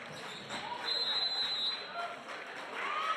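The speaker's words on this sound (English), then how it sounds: "A whistle, 3 in the key is the call, and a turnover against Aitkin" A referee's whistle sounds at a high school girls basketball game, a sustained shrill blast lasting about a second over steady gym crowd noise and shoe squeaks.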